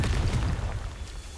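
A fire-blast burst from the Confringo spell in Hogwarts Legacy erupts as a single short, booming explosion with a dull low-heavy thud that fades quickly.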